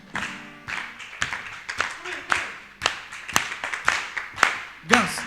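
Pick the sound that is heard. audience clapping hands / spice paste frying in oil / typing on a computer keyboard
audience clapping hands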